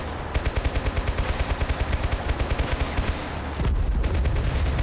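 Rapid bursts of automatic gunfire pour onto a group of garrison units in the war game Total Conflict: Resistance, a steady run of loud shots for about three seconds, then a brief dip and a heavier rumbling barrage.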